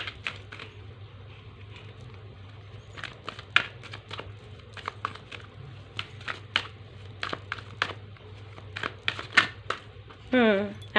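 Tarot cards being shuffled and handled, with soft scattered card flicks and slaps in irregular bursts and a quick riffle near the end, under someone speaking.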